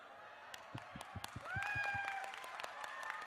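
Scattered hand clapping from a small audience at a public event in Guwahati, faint and uneven, with a few separate claps and a quiet voice over it.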